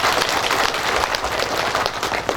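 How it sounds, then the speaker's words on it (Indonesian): An audience claps together for Pak Adipati at a volunteer team thanksgiving and prayer gathering attended by the regent, a dense steady burst of applause filling the room. "Tepuk tangan buat Pak Adipati lagi."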